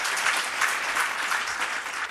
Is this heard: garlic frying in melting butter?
no